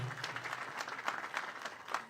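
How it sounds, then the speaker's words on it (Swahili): Faint, steady applause from an audience at a Moi Air Base School ceremony marking the Kenya Air Force's 60th anniversary, after a cake-cutting. The claps sound distant and continuous, with no voices over them. "Tushangilie tena kwa makofi tafadhali"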